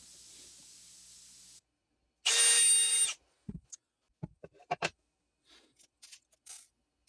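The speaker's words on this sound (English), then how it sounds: "I'm just going to drill tiny pilot holes into the inside edges of the frame" A short burst of power drilling, about a second long, as tiny pilot holes go into the inside edges of a scrap-wood spline frame, followed by a few light taps and clicks of handling in an otherwise quiet space.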